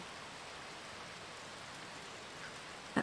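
Rain falling as a faint, even hiss of steady drops with no other sound, ending in a brief soft knock.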